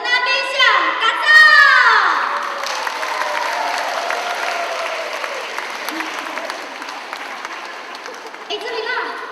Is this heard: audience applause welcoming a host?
yes